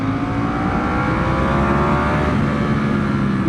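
BMW S1000RR 2025 sport motorcycle under open throttle, a loud, steady, dense engine roar with rising harmonics, constant and close throughout, no voices.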